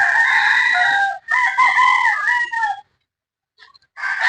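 A gamefowl rooster from a small backyard breeding farm crows close and loud, two drawn-out cock-a-doodle-doo calls with a short break between them, followed by a pause and the start of another call.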